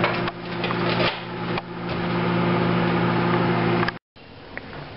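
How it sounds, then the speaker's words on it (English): Microwave oven heating breakfast, a steady close hum with a low drone running for about four seconds before cutting off, then quiet room sound. "I give it about 25 seconds in the microwave."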